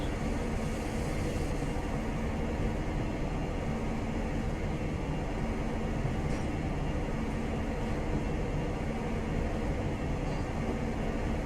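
A Class 43 HST in Train Simulator Classic runs between Newcastle and York, giving a steady, dense rumble and rail roar that holds at an even level throughout, with no talk.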